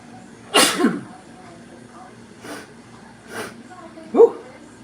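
A woman sneezes sharply and close at hand in a home kitchen, followed by a few softer breathy sniffs or snorts and a last short nasal burst, with no talking during the clip.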